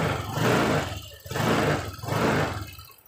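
A Honda scooter engine idles with its idling-stop feature switched on but failing to shut the engine off; a loud, close, rough roar rises and falls in rhythmic surges with no talk.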